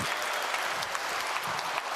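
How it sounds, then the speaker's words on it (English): Audience applause at a live-streamed event, a dense, steady wash of many hands clapping at once, fairly loud and sustained for the whole stretch with no voices over it. "big round of applause for these guys"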